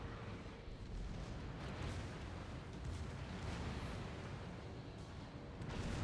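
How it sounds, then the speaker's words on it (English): Torpedoes launching from the Kirov cruiser in a co-op World of Warships battle, heard as a dense, continuous wash of rumbling booms and explosive bursts at steady loudness for several seconds, with no talk. "see if I can fire off these torps for you"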